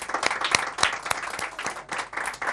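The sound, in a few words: studio audience applause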